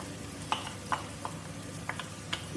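Garlic cloves and green chillies fry in a pan, giving a faint steady sizzle broken by several soft scrapes and taps from a stirring utensil.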